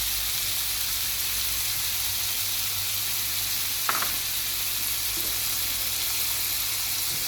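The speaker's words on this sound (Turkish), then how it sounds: "Bu şekilde zeytinyağıyla kavuruyoruz." Sautéed ivy greens and egg sizzle in olive oil in a pan, with a loud, even, close frying hiss that runs without a break, one sharp clink partway through and no talk.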